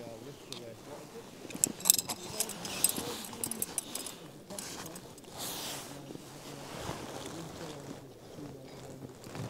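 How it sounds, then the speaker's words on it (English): Strong wind gusts buffet a tent pitched on a mountain in the Lake District, giving uneven rushing and flapping bursts with a few sharp rattles of the door. "There's a bit of a strong gust of wind, but other than the door moving a bit, we're okay."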